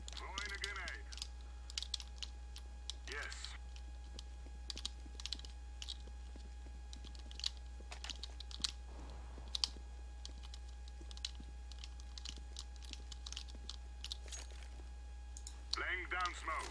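Computer keyboard typing and clicking during a CS:GO competitive match, scattered quick keystrokes at close range under a steady low hum, with brief bursts of game sound.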